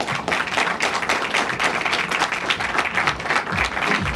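Audience applause at a ribbon-cutting ceremony for a Tanishq jewellery boutique, a steady dense round of many hands clapping together, loud and continuous, with no voices over it.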